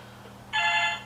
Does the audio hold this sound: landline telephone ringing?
yes